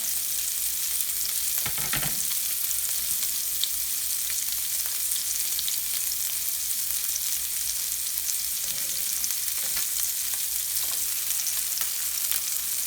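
Salmon fillets fry in a pan with a loud, continuous sizzle and spatter, steady throughout with a brief thump near the start.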